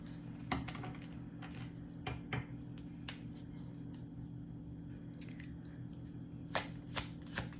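Tarot cards being shuffled up close, soft riffling and sliding bursts with a few sharper card snaps, over a steady low hum in the room.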